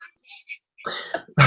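A person coughs up close: a pair of short, rough bursts after a few quieter breathy sounds, with no talking over them.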